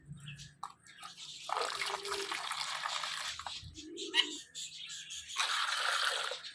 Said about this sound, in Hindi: पानी में डाल देता हूँ, ये लो।